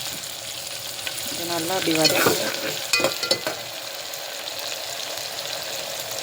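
Green chillies sizzle and fry in a pan for mushroom masala, with stirring scrapes and clinks rising in the middle, while a voice speaks briefly over the steady crackle.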